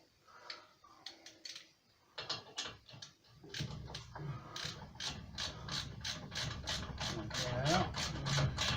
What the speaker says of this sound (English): Tighten that up to spec.